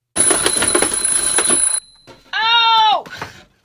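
A homemade alarm clock rings at a demonstration, with a sharp tonal electronic ring that sounds for under a second after a burst of clattering mechanical noise, then cuts off abruptly.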